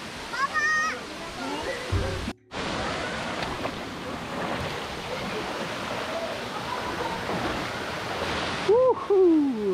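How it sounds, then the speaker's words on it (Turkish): Sabun waterfall in Düziçi, Osmaniye, a roughly 10-metre fall in a valley, roaring steadily and loudly nearby with a brief dropout, while voices talk over it at the start and end. "Evet gördüğünüz gibi şu anda şelalenin olduğu kısma geldik."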